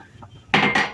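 A spoon clatters loudly inside a pot twice in quick succession as flour is stirred into boiling milk, after a quiet start.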